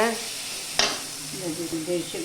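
A pan sizzles steadily as eggplant is sautéed, with a sharp scrape of a spoon and a voice speaking over the cooking.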